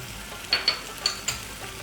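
Butter sizzles in a pan while matar paneer cooks, a steady soft hiss broken by a few sharp scrapes of stirring, close by and with no talking.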